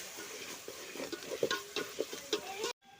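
Masala is stirred into biryani meat in a pot, giving rhythmic scraping strokes over a soft sizzle, close and steady for a few seconds before the sound cuts off.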